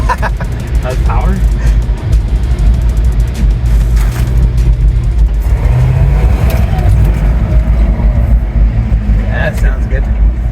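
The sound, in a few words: 1968 Ford F250 truck engine revving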